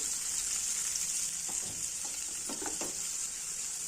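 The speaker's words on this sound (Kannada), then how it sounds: "ಈರುಳ್ಳಿ ಫ್ರೈ ಆಗೋಕ್ಕೆ ಸ್ವಲ್ಪ ಉಪ್ಪು ಹಾಕೋಣ." Onions with curry leaves frying in a pan for traditional onion rice, a steady bright sizzle throughout with occasional louder crackles and pops near the middle and end, close and continuous, no voices.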